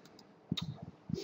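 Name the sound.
computer mouse clicking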